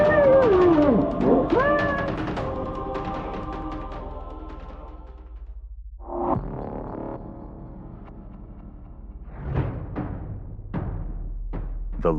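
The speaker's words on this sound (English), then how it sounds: "The lion, a living masterpiece forged by a harsh land." A lion gives a loud, wavering snarl up close, followed by quieter growls and several short, sharp bursts.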